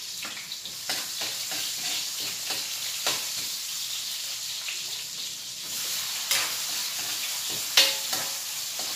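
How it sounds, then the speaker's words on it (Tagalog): Garlic and onion sizzle and fry in a pan, a steady bright hiss with occasional scraping stirs and small pops, heard close up with no talking. "Ato sang ipa brown ang ato ang ahos, guys, kay para humot"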